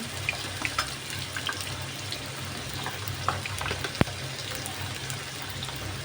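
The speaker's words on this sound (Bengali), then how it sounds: "সব সবজি আলুটাকে অল্প করে ভেজে ভেজে নেব" Potatoes, pumpkin, eggplant and other vegetables fry in a pan for a Bengali pui shak chhechra with katla fish head, giving a steady soft sizzle with a few sharp stirring clicks and no talk.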